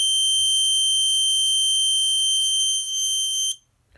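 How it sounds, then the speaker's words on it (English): Snap Circuits 3D Illumination horn blaring a loud, continuous high-pitched electronic tone for about three and a half seconds, then cutting off abruptly into near silence. "now the horn sounds and the color LED turns on"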